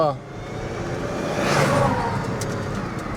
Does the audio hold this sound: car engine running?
yes